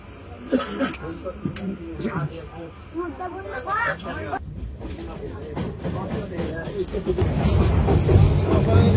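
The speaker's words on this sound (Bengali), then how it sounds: "ঢাকা বিমানবন্দর রেলওয়ে স্টেশন থেকে ছেড়ে যাচ্ছে কুড়িগ্রাম অভিমুখী 797 আপ কুড়িগ্রাম এক্সপ্রেস" The 797 Up Kurigram Express pulls out of Dhaka Airport railway station. Platform chatter and general hubbub fill the first half, then a low rolling rumble of the moving train builds and grows louder toward the end.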